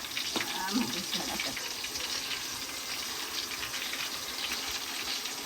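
Chicken pieces hiss and sputter in hot oil with ginger in a home kitchen, a steady loud sizzle continuing throughout while a voice talks briefly near the start.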